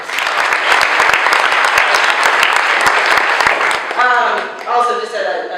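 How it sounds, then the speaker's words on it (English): Audience applause at a college experiential education breakfast: a loud burst of many hands clapping for about four seconds, then fading as a voice begins speaking. "So please give them a round of applause."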